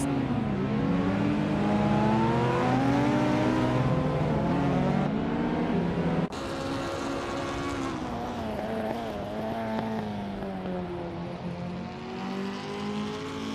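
Race cars roar around a track, among them a Nissan Skyline R31 GT SR, with engines revving continuously and rising and falling in pitch as they accelerate and pass. The sound stays loud throughout, and there is a sudden cut partway through.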